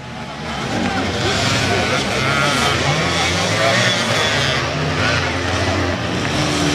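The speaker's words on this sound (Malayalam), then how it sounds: "8 ബൈക്ക് റൈഡേഴ്സ് ഈ ട്രാക്കിനെ ത്രസിപ്പിച്ചുകൊണ്ട് മുന്നേറുന്നു." Several motocross bikes in a beginners' race heat on a dirt track, a dense, continuous engine roar at steady loudness throughout, with crowd or commentary noise mixed in.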